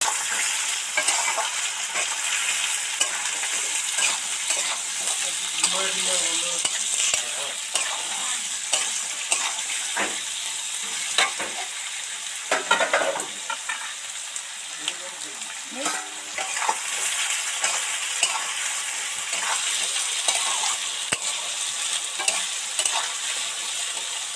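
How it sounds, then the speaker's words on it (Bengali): Potato, eggplant and tomato pieces deep-frying in hot oil in a pan, a continuous loud hiss and crackle with occasional stirring scrapes throughout, close by and without talk. "সবজিগুলো তো মোটামুটি ডিপ ফ্রাই করে ভাজা হয়ে গেছে"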